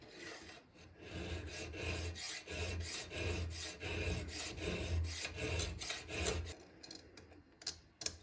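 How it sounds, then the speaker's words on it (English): A hand file working a tapered slot in a hunting knife guard, rhythmic back-and-forth rasping strokes, close and steady, ending with a few light metallic taps. "it means I need to file a little bit more on the top side"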